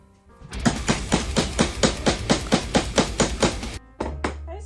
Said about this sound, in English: then you're going to push your eyelets into those holes, and then you're going to hammer them in.